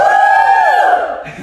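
A church congregation at an El Shaddai prayer meeting in Kariya lets out a loud, sustained collective shout of victory, voices swelling together and then trailing off after about a second.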